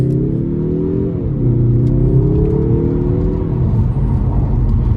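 A 2022 Mazda 3 AWD Turbo in sport mode pulls away under throttle, its engine note climbing steadily with one shift, heard from inside the cabin without talk.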